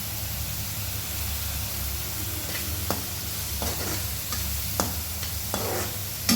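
Ginger garlic paste fries in a pan with curry leaves and is stirred, giving a steady close sizzle broken by several scraping strokes of the spoon.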